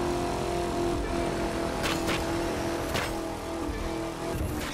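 Ford Crown Victoria driven in the racing game The Crew 2, with a steady engine drone holding a continuous tone throughout and a few brief higher bursts, heard alone without talk.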